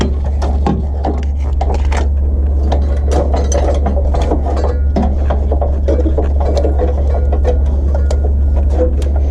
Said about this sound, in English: So we're taking the shifter out from inside.